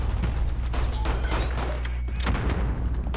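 Rocket launcher explosions in the video game Call of Duty: Modern Warfare, a run of heavy thuds and booms landing close together over a loud, continuous battle din.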